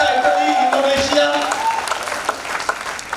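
Audience applause filling a training seminar hall, loud and sustained at first and then gradually thinning out over a few seconds, with tonal voices or music mixed in.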